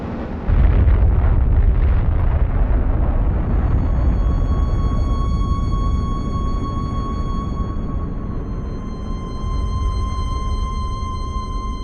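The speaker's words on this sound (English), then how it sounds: "the first atomic bomb struck an enemy target" Atomic bomb explosion, the first used against an enemy target, heard as a loud deep rumbling blast that swells and rolls on for several seconds, with a sustained high tone emerging as the roar slowly fades.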